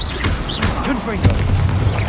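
A Confringo spell explosion booms in the Hogwarts Legacy video game, a single sharp blast midway, heard over a dense wash of game noise and a voice.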